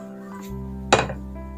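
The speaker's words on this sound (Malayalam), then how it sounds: "അപ്പോൾ ഞാനൊരു പാൻ വെച്ചിട്ടുണ്ട്." A metal pan set down on a kitchen stove while preparing jaggery syrup for Kerala Pesaha milk gives a single sharp clink midway, ringing briefly over a steady low hum.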